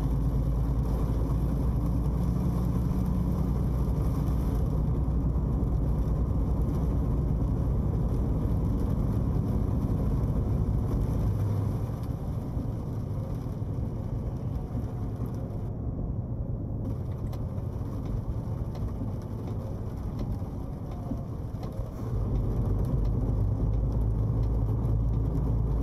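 A truck engine drones steadily while driving in Euro Truck Simulator 2 with ProMods on roads in Norway. The low rumble holds at a constant level and stays fairly quiet throughout, with only small dips and swells.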